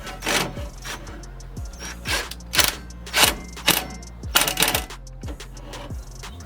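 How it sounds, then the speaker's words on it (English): A ratchet with a 10mm socket tightening the intake nuts on an F30 BMW 335i N55 during a CTS Turbo intake install, close sharp clicking bursts in an uneven rhythm with small metallic taps between them. "I use the 10mm socket to tighten it down."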